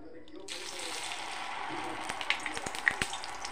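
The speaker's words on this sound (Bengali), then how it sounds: "এখন আমি একে একে ভেজে নেব।" Rice and ash gourd pitha frying in hot oil in a wok give a steady close sizzle, with a few sharp pops and crackles near the end.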